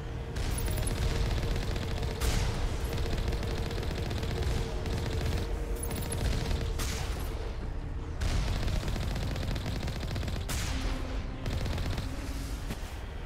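Gun turrets firing in Mass Effect Legendary Edition, sustained loud automatic gunfire with dense bursts and sharp impacts running continuously through the battle.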